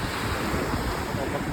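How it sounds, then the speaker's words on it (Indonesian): Ocean surf at Gopit beach on the south coast of Java, near Malang, with fairly high waves breaking over coral rocks, a steady close rushing wash with wind buffeting the microphone throughout. "Dan di sini terdapat ombak yang lumayan tinggi ya dari pantai Gopit."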